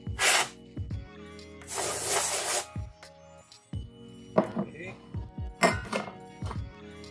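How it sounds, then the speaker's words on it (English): Compressed air sprays in short loud hissing bursts over a Lenovo V130 laptop while cleaning it, two long blasts then quicker puffs, mixed with small clicks and handling noises. "cleaning first. With our compressed air."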